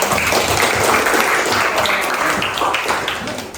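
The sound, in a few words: applause for a student's class presentation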